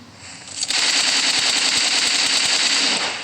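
Rapid automatic gunfire in a competitive shooter video game match, a loud, dense, continuous volley lasting about three seconds after a short quieter lead-in, with no speech.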